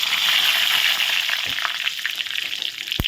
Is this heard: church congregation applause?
no